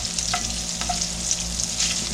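Thick-cut Bar S bologna frying in bacon fat in a pan, a steady close sizzle with a few light scraping stirs and small pops, no voices over it.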